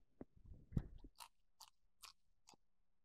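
Crisp skin of a spit-roasted suckling pig is bitten with a loud crunch, then chewed in a few sharp, close crackles separated by short pauses.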